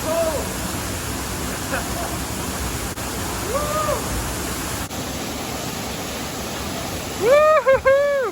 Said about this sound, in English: So this is the Seven Sisters waterfall.